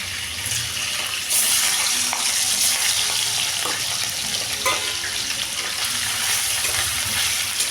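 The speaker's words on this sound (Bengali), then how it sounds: "তো তেলটা গরম হয়ে গেছে, এখানে কিন্তু মাছগুলো ভেজে নেবো।" Fish fry in hot oil in a wok for an Indian home meal, producing a loud, continuous close-up sizzle with bursts of crackling and spattering and no talk.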